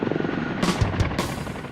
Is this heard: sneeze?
no